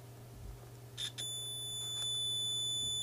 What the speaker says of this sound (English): We can, of course, just check that with our multimeter.